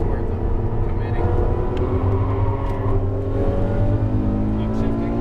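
A Ferrari F12 accelerates around a race track, its engine a loud, close, climbing multi-harmonic howl that sweeps upward steadily, with a driver talking over it.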